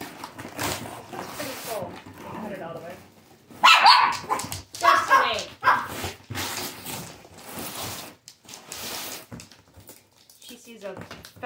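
A dog barks several times in short bursts, mixed with people talking nearby and some rustling.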